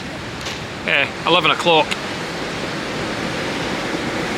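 Ocean waves coming in on a spray-filled morning, a steady broad wash of surf and wind roar running the whole time, with a person speaking briefly over it.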